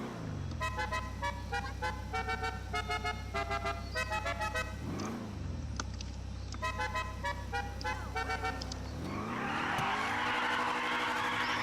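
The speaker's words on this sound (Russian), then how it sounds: "Капец нас заносит прям" A car skids in the video game GTA 5, with a long run of tonal tire squeal and an engine drone, a brief dip midway, then a harsher hissing slide at the end, loud and close with no talk.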